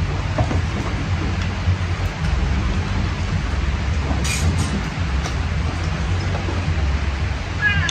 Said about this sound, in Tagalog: Ulan na naman dito sa amin.